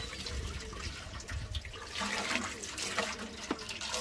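Water from a hose splashes and swirls inside a plastic wet and dry vacuum barrel, a moderate close gushing and sloshing wash with some louder splashes, no talk.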